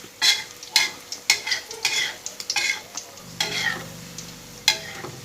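A crispy three-egg Thai omelette fries in oil in a wok, a spatula scraping along the sides in a dozen quick strokes over a steady sizzle.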